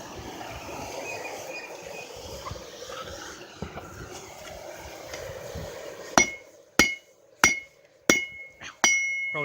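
Hammer blows ring out sharply on metal at an anvil during a forging session, about six loud, evenly spaced strikes in the second half after a stretch of softer background shuffling and noise.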